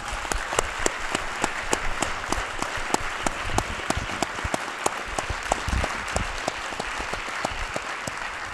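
A crowd applauds steadily, many hands clapping in a dense, continuous patter at moderate distance.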